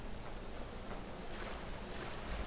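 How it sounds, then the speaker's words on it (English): A waterfall in the video game Skyrim gives a continuous, soft, rushing roar of falling water. It is even and unbroken, with no talking. "So tempted to look behind this waterfall."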